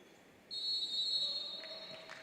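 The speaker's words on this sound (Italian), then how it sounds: "Fischio d'inizio" A referee's whistle sounds a single long, loud, steady blast to start a Serie A futsal match in an indoor arena, followed by a faint bounce.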